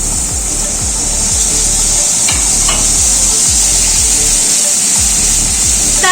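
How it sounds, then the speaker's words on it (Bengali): Water splashing into a pan of mustard brinjal and hilsa curry, a loud steady sizzle and hiss under a bright wash of spray, with a couple of brief clinks partway through. "এবার একটু জল দিয়ে দিচ্ছি।"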